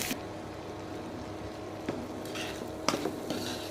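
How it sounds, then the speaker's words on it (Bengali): Dried churi fish and onion fry in a pan with a soft, steady sizzle and a few faint scraping stirs, heard close but quiet. "শুটকিটা একটু ভেজে নিচ্ছি।"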